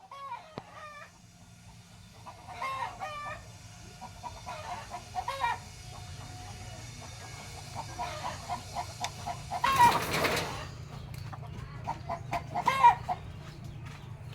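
Brahma chickens cluck and crow in short, scattered bursts of varying distance around a home yard, with a louder broadband burst partway through and steady low background noise throughout.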